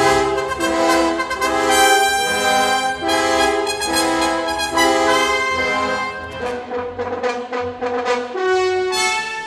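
French horn playing a sustained, multi-layered melodic passage, recorded with a Sennheiser 421 and a Shure SM27, steady and full throughout with no talking.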